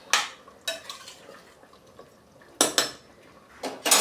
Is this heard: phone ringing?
no